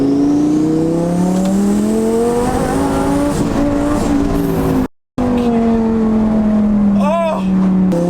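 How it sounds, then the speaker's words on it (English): Twin-turbo Lamborghini pulling hard in third gear: a loud engine note climbs steadily in pitch, briefly cuts out during a shift, then pulls again, with a voice exclaiming over it. "Third gear pull."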